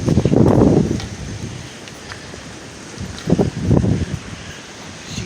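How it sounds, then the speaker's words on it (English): Strong gusty wind blows outdoors on a day of heavy gusts, buffeting the microphone in loud rumbling bursts at the start and again near the end, with quieter rustling between. "There goes the wind."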